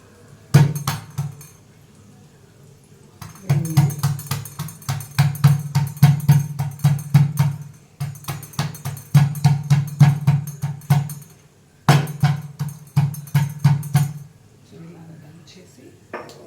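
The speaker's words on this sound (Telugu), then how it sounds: "ఇది కాస్త దంచి వేస్తానండి" Tempering spices are pounded by hand in a mortar, producing rapid rhythmic thuds in several bursts with short pauses between, loud and close, no talk over it.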